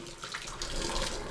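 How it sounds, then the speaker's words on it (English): Dirty water from a Hoover Power Dash carpet cleaner's tank pours into a sink as a steady, splashing gush, close and continuous throughout. "we're going to pour this into the sink so you can see the water"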